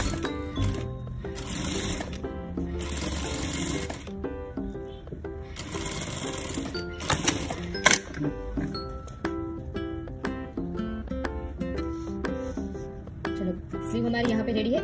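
A sewing machine stitches along a blouse lining in rapid, steady runs of close needle strokes, pausing briefly and restarting, with a voice talking at times.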